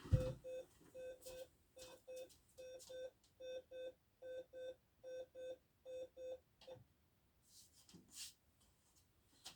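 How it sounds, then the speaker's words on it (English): An alarm clock goes off indoors with a repeating electronic beep pattern, about a dozen evenly spaced bursts in steady rhythm, fairly faint, before it stops and a few quiet rustles follow. "oh, there goes my alarm."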